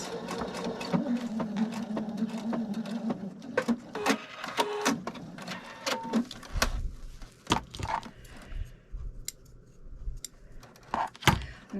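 Sewing machine stitching fabric for a bowl cozy and matching hot pad, a fast mechanical whir with rhythmic needle clatter that slows and breaks into scattered clicks and knocks near the end, close and moderately loud.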